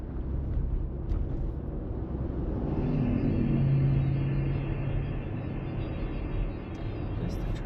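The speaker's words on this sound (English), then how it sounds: "Just a truck going by." A truck passes on a nearby road, a low rumbling swell that builds to a peak around the middle and then fades away, with no talking over it.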